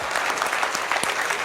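A brief burst of steady audience applause fills a motivational seminar hall, dense clapping from many people at close range.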